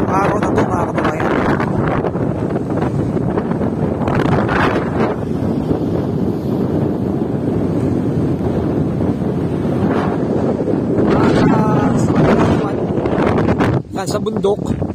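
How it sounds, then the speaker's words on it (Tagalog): Strong wind buffets the microphone in heavy, rumbling gusts among windmills in Ilocos North, Philippines, with a person talking over it throughout. "Siyempre lakas ng hangin ngayong araw na to"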